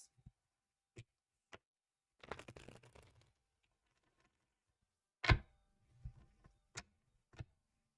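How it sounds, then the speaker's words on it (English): Tarot cards shuffled by hand, heard as scattered soft taps and clicks, a brief riffle of papery rustling, and a louder slap, all quiet and close with long silent gaps between them. "Two more shuffles."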